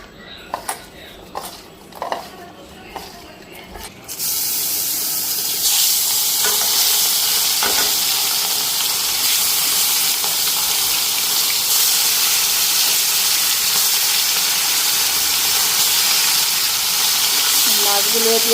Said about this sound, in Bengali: মাছগুলো দিয়ে দিলাম। তেল পুরো গরম হয়ে গেছে, মাছগুলো সুন্দর ভাজা হইবে।